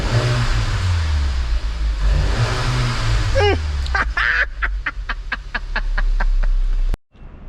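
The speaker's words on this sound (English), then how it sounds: "let's give it a young rev." A rebuilt Volkswagen Golf 8 GTI engine idles with a loud low rumble, then is revved in rising, quacking sweeps and sharp repeated pops before cutting off abruptly.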